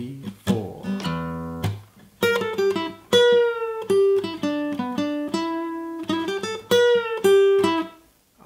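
Guitar plays the intro section of a song as a run of clear, close single-note lines with crisp picked attacks, quick staccato stops and sustained ringing notes, alone with no talking.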